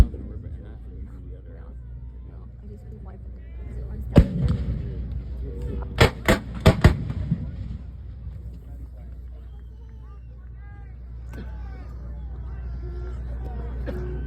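Cannon fire at a 2023 Gettysburg battle reenactment, marking 160 years: a single loud boom, then a tight cluster of three or four sharp reports over outdoor crowd murmur and a low rumble, while someone narrates.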